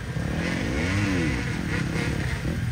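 A motocross motorcycle with an electric start engine revs on a dirt track in Ibaraki, a loud, steady raspy engine note that climbs and falls in pitch, close and continuous throughout.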